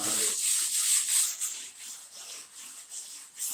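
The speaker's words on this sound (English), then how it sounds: "this stuff sands so amazingly easy" Hand sanding a prepared surface with long back-and-forth strokes, a soft close rubbing hiss that swells and fades with each pass, heard alone without talk.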